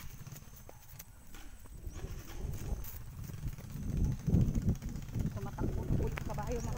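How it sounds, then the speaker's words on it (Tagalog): A horse running on the ground, its hoofbeats clopping in an uneven rhythm beneath steady low rumble and wind, with people talking over the sound. "Tumatakbo na po yung kabayo mga kapuski."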